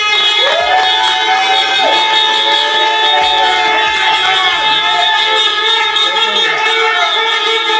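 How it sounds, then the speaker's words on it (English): A crowd cheers and applauds amid loud, sustained motorcycle horn blasts, creating a dense, continuous wall of celebratory noise. "give him a nice round of applause"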